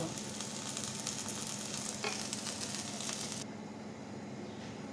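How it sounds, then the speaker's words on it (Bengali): Onion, garlic and green chilies fry in oil, a soft, even sizzle with light stirring and one brief scrape, quieter toward the end. "একটু লাল লাল করে ভেজে নেব পেঁয়াজ রসুন কাঁচামরিচগুলো ভাজা হয়ে গেছে"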